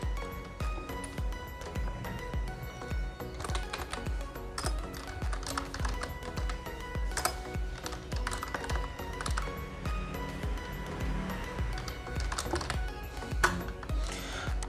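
Close, continuous typing on a computer keyboard while words are entered in MS Word. The keystrokes come in irregular quick clusters with brief pauses, and there is no talking over them.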